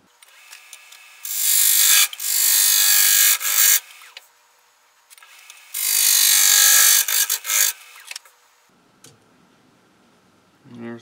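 A lathe gouge rough-turns a wet poplar bowl blank in two long, loud shearing passes broken by shorter bursts, with near-silent gaps between cuts and a low murmur near the end.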